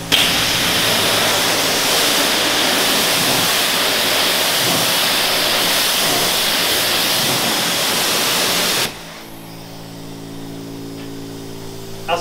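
A loud, steady hiss of water spraying from a hose rinsing a Volvo V70 runs for several seconds, then stops abruptly, leaving quieter dripping and background hum.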